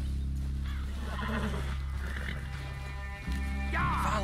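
A horse in a Wild West video game whinnies, with a wavering neigh rising near the end over a loud, steady low drone and soft ambient sounds.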